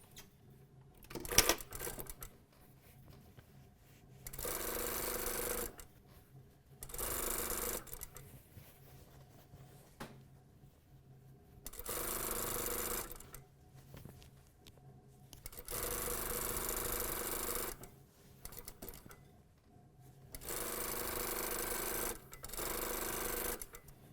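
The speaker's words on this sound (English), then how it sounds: "Might help with the back panel to actually stitch from the bottom up." A sewing machine stitches the back panel of a pair of pants in a run of bursts, each a few seconds long, with quiet gaps between them. The close steady whirring stops and starts repeatedly.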